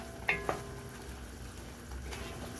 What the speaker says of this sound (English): my coconut is boiling now in my sugar and ginger